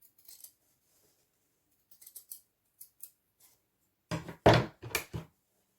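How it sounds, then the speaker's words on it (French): Small scissors snipping along a fabric seam while sewing a summer bag: a few faint, sparse clicks early on, then a louder cluster of three or four close, crisp cuts near the end. "Si besoin, on prend un petit ciseau"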